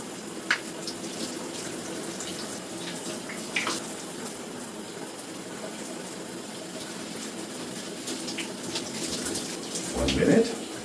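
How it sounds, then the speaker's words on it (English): Home shower runs steadily, a continuous close hiss of spraying water with scattered splashes and a brief louder burst near the end, and faint talking is heard beneath it. "I'll hop in the shower, show you how to wash it in"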